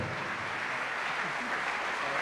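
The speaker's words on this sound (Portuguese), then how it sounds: "Vamos aplaudir ao Senhor Jesus" Congregation in a church applauding, a steady dense wash of clapping that holds evenly through the whole stretch at moderate level.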